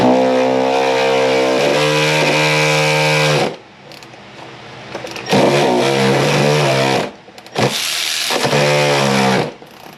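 Milwaukee impact wrench on a brake bolt of a 2005 GMC Envoy during a rear brake job, a loud whirring hammering rattle in three long bursts separated by short pauses, close up with no talking.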